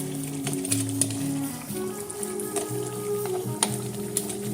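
Curry oxtails with potatoes simmer in a pot, giving a steady, soft bubbling and gentle sizzle throughout with faint tonal hum in the background.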